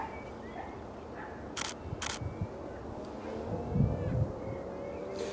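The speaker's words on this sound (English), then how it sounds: "it's just a case of just releasing the shutter" Two quick camera shutter clicks close together during a landscape shoot at the Newport Transporter Bridge, heard over steady outdoor wind noise, with faint handling sounds afterward.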